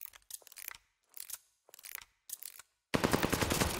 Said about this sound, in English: Activating the bomb.